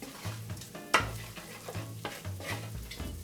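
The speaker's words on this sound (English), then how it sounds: "Give this a quick stir." Bacon mustard sauce being stirred in a pan on the stove, a low bubbling simmer with spoon scrapes and one sharp clink against the pan, close and fairly quiet, no voices.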